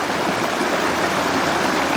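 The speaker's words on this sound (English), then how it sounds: "I'm just here with the flowing water." Steady rushing of water flowing along a stream, a continuous broadband wash that stays even and close throughout with no voices.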